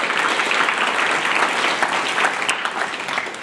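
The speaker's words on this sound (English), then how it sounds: "Let's give them all a big round of applause." Sustained applause from a conference audience thanking the event and audiovisual team, a dense, loud, even wash of clapping filling the room without a break.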